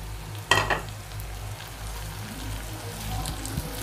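Tomatoes and green chilies hit onions frying in a pan, with a sharp clatter as they drop in, then a steady soft sizzle and crackle close by, with no talk.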